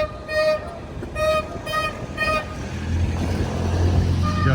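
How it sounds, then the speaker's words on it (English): A fish seller's truck rolls by in the Azores, sounding three evenly spaced musical horn toots before its engine rumble grows louder and nearer. "Guy's selling fish out of his truck."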